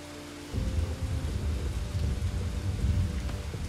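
Steady rain pours in the Bugsnax video game, a dense close hiss that holds for the whole stretch, with low rumbling underneath that suggests distant thunder.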